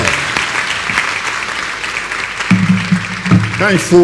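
A large masterclass crowd in Dakar applauds and cheers in a loud, sustained burst of clapping, with a voice speaking over it in the last second and a half.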